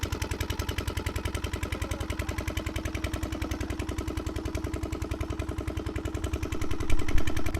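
A small engine-driven water pump running nearby, a steady fast chugging putter at an even rhythm that swells slightly louder near the end, with no talking.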